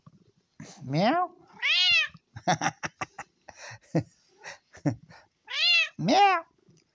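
A cat being brushed meows repeatedly, several drawn-out, rising and falling cries close by, interspersed with soft murmuring speech from a person.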